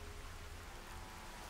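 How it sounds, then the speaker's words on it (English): Rain falls steadily in Fallout 4 in Survival Mode, a soft, even hiss of drops on surfaces with a faint low rumble beneath and no voices. "the very foggy day is now turned into a very rainy day"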